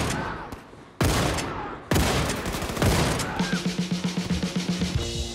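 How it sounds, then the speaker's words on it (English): Shots from the Shockhammer, a triple rotating-barreled shotgun in a video game, open with heavy separate blasts and then give way to a fast, regular stutter of rapid fire over game music and effects. "The Shockhammer is a triple rotating barreled shotgun, which is absolutely brutal when dual wielded"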